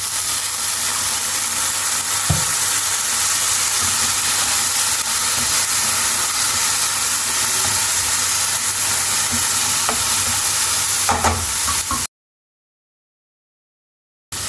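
Chicken frying hot in a pan with a tablespoon of soy sauce just added, for a chicken paratha roll: a loud, continuous close-up sizzle and hiss that runs steadily, then suddenly cuts to silence.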